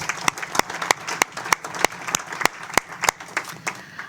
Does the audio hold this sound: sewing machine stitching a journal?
no